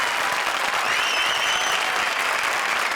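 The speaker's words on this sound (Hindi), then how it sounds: "हमारी चारों भूतिया जोड़ीज के लिए जोरदार तालियां।" Steady, dense applause from a studio audience at a comedy show fills the whole stretch at a loud, even level, with a brief whistle cutting through the middle.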